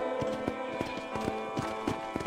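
Horse hooves clip-clop at a steady walking rhythm near a ranch corral in the Red Dead Redemption video game, clear repeated thuds over a faint game ambience.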